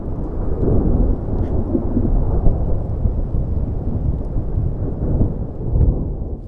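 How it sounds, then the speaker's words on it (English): Low, continuous rumbling of distant thunder rolls on without a break over a mountainous valley in Sequoia and Kings Canyon National Parks, deep and heavy, with a faint wash of rain beneath it. "Thunder rumbles in the distance"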